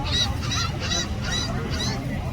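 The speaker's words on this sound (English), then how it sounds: "Seagulls." Seagulls calling at a beach, a run of five evenly spaced honking cries over a steady low background.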